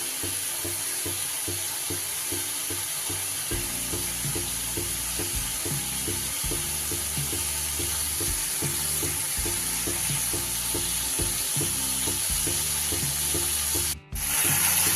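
Spice paste sizzling and frying in oil in a pan for a Bengali papaya ghonto with chickpeas, a steady close, loud crackle with stirring scrapes throughout and no talk.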